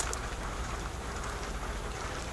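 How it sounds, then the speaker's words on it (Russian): Rain falling outside during a truck trip on a rough Yakutian road, a steady, dense hiss of drops that holds evenly throughout, with no voices. "На улице идет дождь."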